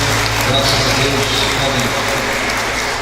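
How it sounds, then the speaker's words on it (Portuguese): A church congregation claps in steady, dense applause during a worship service; the clapping stays loud and even throughout, with a faint voice underneath. "Aplausos para o nosso Deus."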